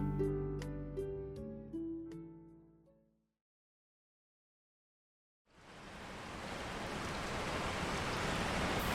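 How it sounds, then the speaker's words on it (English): Heavy rain pours down on empty streets, a dense, steady hiss that swells in after a few seconds of silence and holds loud and constant to the end. "The rain hammered down on the empty streets"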